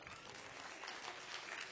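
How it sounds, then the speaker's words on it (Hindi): An audience claps for the parents in a hall, a dense, steady burst of many hands that holds evenly for the whole short stretch with no talk over it. "सबसे पहले इनके लिए जोरदार तालियां हो जाए"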